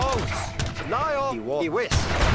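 Cannon fire in the strategy game Age of Empires 3: a heavy, broad boom arrives near the end, while someone speaks German over the battle noise for most of the clip.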